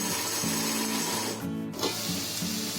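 A mixer grinder whirs steadily as it grinds wet spice paste for an okra curry, a loud continuous motor drone with a brief dip partway through before it resumes.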